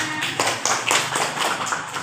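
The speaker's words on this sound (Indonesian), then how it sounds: "beri tepuk tangan dulu ke temannya" A class of primary school pupils claps for a classmate, a short burst of quick, overlapping hand claps that fill the room for about two seconds.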